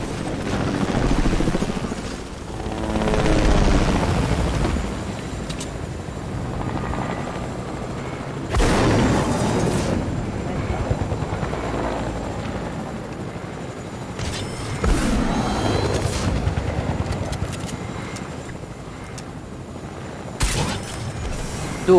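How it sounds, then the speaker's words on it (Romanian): Helicopter in a battle royale video game, a steady rotor drone running throughout with bursts of gunfire and booms cutting in at intervals, fairly loud and close. "Tu, lasă-l aici elicopterul"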